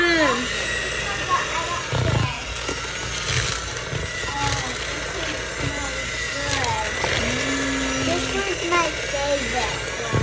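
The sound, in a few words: electric mixer mixing churro cheesecake batter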